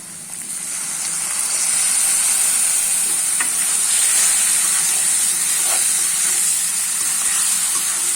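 Spices with turmeric fry for dried-fish bhuna, then a little water goes into the hot pan, bringing up a loud, steady close sizzle and steamy hiss that swells and holds with faint stirring taps.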